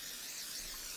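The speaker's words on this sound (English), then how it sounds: "you're gonna wanna take your pan and you're gonna spray it" Cooking spray hisses from a can onto a baking pan in one short, steady, faint burst with no pauses.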